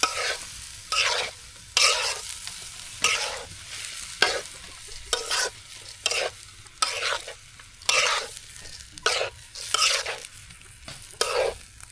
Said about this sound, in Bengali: নাড়াচাড়া করে নিচ্ছি আমরা সুন্দর করে মশলাগুলো দিয়ে